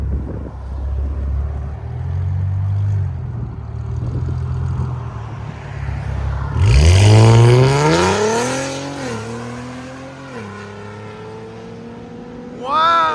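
A twin-turbo 3.0L V6 in an Infiniti Q60 with aftermarket exhaust valves open idles with a low rumble, then erupts into a loud rising rev that peaks and settles back through a couple of smaller blips, heard close up.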